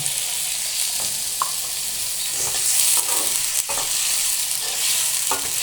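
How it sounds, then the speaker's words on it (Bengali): Broth goes into a pan of water lily stems (shapla) curry already frying, giving a continuous bright sizzle with occasional stirring scrapes and clinks, close up and without speech. "দিয়ে দিচ্ছি ঝোল"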